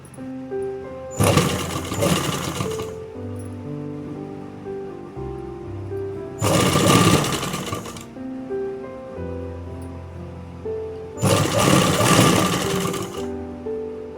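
A sewing machine stitching a designer kurti runs in three separate loud bursts of about two seconds each, with quiet gaps and soft handling between them.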